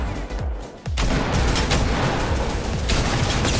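A mounted machine gun in Fortnite fires a dense, loud, continuous burst that starts after a few brief shots and holds at full intensity to the end, with no talk.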